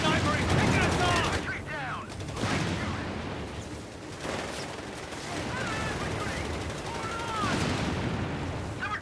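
Gunfire rattles through a Company of Heroes 3 battle in the Italy campaign, with bursts of rifle and machine-gun shots and booming impacts amid a loud, dense battlefield din, while voices shout over the fighting.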